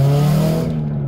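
Turbocharged 400 whp Subaru WRX with an EWG setup pulling hard under acceleration, a loud, steady engine drone with strong low harmonics filling the whole moment, then easing slightly near the end.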